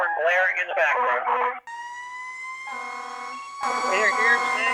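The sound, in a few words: fire engine siren and horn blaring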